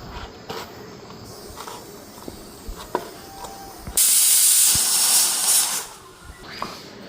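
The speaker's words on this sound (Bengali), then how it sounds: "প্রেশার কুকারে আলু দিয়া বসাইয়া দিলাম" A pressure cooker with potatoes inside lets out a loud, sustained burst of hissing steam lasting nearly two seconds, preceded and followed by quiet kitchen clicks and taps.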